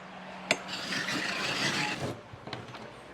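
Coconut grated the old-school way on a galvanized sheet-metal grater, a close rasping scrape running for about a second and a half, with a sharp knock before it and lighter clatters afterward.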